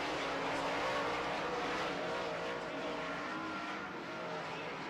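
Late model race cars roar around a track during a heat race, a continuous distant engine drone that swells slightly and then eases, with no talk over it.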